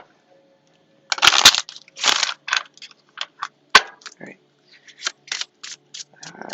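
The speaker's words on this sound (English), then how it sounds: "So just enjoy the shuffle if you like ASMR." A deck of tarot cards being shuffled close up in repeated crisp bursts of riffling and slapping, with a brief spoken word near the start.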